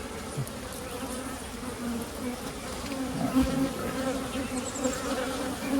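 Honeybees buzz in a dense, continuous drone around an open hive during an inspection and requeening, loud and close, with no talk over it.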